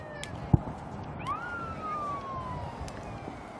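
An airport fire truck siren sounds once during a test, a single faint rising then slowly falling wail heard from a distance over steady background rumble, with a brief sharp knock just before it.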